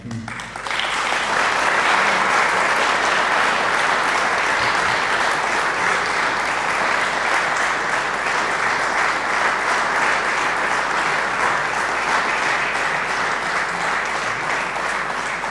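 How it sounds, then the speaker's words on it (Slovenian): An audience at a book launch applauds loudly and steadily, a dense, sustained clapping that fills the room for about fifteen seconds. "Seveda, to je pa en velik aplavz, si Nina zasluži, ne?"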